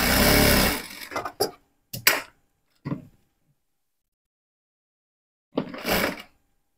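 Sewing machine stitching fabric for a boy's half pants in short bursts: a loud whirring run, then quick stop-start spurts, a pause of silence, and a final burst.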